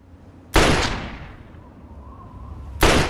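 Two .32 pistol shots from the Fallout video game, each a sharp, loud crack with a long decaying tail, spaced about two seconds apart with no talking.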